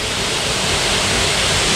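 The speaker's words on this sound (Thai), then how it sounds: "ดูบรรยากาศตรงน้ำตกฮะโอ้โห" Powerful waterfall at Tham Phuang in Ubon, Thailand, roaring as a steady, loud broadband rush of falling water, close and continuous with no talk over it.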